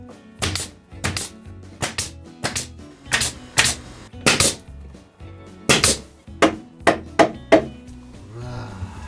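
Hammer driving concrete nails into a tile grout joint, sharp percussive blows struck in quick irregular bursts of two and three, close and loud, with brief pauses between groups.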